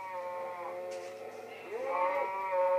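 Minecraft sheep bleat from an animal pen in the video game, a drawn-out wavering call followed by another rising bleat, close and clear over a steady background.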